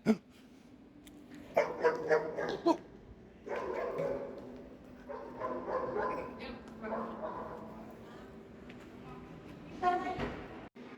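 A dog barks in short yips and whimpers inside a busy indoor shopping mall, the sounds rising in bursts over crowd chatter and people talking nearby.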